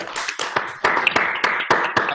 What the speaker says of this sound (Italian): accogliere con un grande applauso Alessandro e Ninno